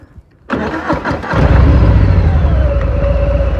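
A 2023 Harley-Davidson Fat Bob 114 motorcycle engine cranks and catches, then settles into a loud, steady running rumble close by.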